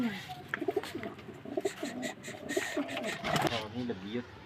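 Pigeons coo close by in soft repeated throaty calls, mixed with people talking nearby.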